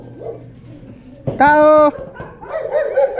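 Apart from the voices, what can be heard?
several dogs barking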